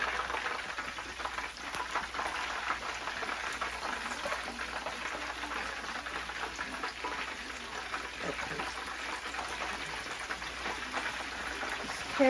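Battered fish frying in hot grease makes a steady, dense crackling sizzle that continues at an even level throughout, close up, with no talking.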